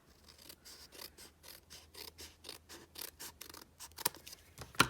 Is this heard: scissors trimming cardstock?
yes